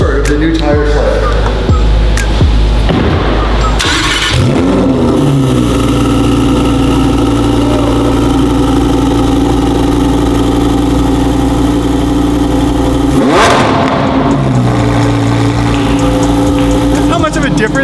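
A 2021 Lamborghini engine cold start: it cranks and catches, settling into a loud, steady idle with a brief rev partway through, close by, with the stock exhaust.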